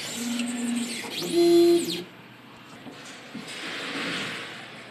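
A DTF printer runs a nozzle check: a short mechanical sweep with a bright electronic tone, then a soft low hum while the machine settles.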